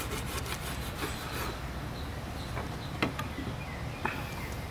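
A knife slices mahi-mahi belly bait at an angle, making a steady close scraping rasp with two sharper cutting strokes near the end.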